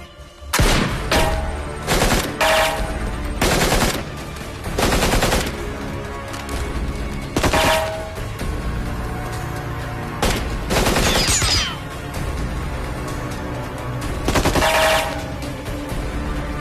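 Gunfire in a film scene comes as repeated loud bursts of automatic shots and single cracks, separated by short pauses, over a low background.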